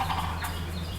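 An ocellated turkey tom gobbles in a forest, a single rolling call carried over a steady low background hum, with no voices.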